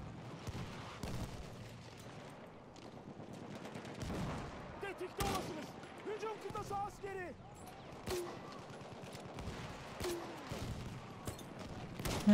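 Battlefield 1 rifle gunfire amid a busy battlefield mix of shots and explosions, with repeated sharp bursts at moderate loudness over steady combat noise, while someone talks over it.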